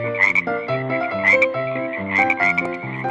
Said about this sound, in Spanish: Miles de ranas salieron del río.